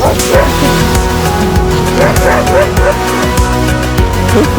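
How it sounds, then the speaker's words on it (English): Several 9-week-old puppies bark, yip and whimper close by in a busy, noisy mix, with people talking over them. "I hear doggies."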